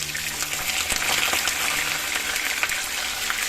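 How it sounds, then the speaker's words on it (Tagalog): Tilapia sizzles and crackles in hot oil in a pan, a steady hiss with scattered pops, fairly close and loud with no talking. "Magpiprito muna tayo ng tilapia."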